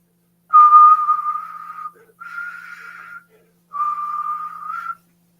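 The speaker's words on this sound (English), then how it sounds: "I know I can't whistle." Human whistling by a retired chief warrant officer: three sustained, steady whistled notes with short gaps between them, fairly loud and close, with no talking during the whistles.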